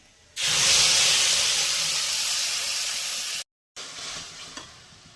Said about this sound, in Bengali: একটু কালো জিরে ফোড়নে দিলাম, মশলাটা দিয়ে দিলাম